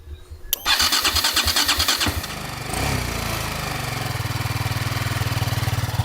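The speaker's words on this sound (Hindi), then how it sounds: "एक बाइक हमारी जो है वो स्टार्ट हो गई है" A motorcycle engine cranks with a fast rhythmic chug, catches, and settles into a loud, steady idle close by with no talk.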